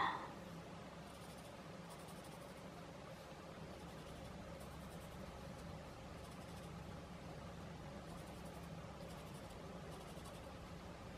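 A pencil scratches steadily across paper, close and quiet, forming a continuous soft rasp with faint background hum throughout.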